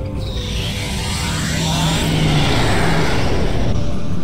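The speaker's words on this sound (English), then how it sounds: "she has a very cool effect when you activate the Quantum Slipstream Drive" Quantum Slipstream Drive activation in Star Trek Online, aboard the Risian Weather Control Vessel: a loud, steadily building rushing roar with a rising whoosh, sustained and swelling like an engine surging to speed.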